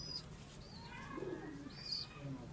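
A male Rampuri pigeon on a rooftop loft coos softly in low, rolling bursts, with faint higher chirps from other birds around and a steady murmur of background noise.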